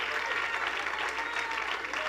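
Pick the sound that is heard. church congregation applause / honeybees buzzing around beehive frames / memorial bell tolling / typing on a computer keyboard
church congregation applause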